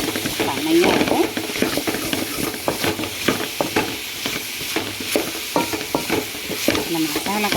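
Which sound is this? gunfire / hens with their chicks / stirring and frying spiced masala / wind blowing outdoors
stirring and frying spiced masala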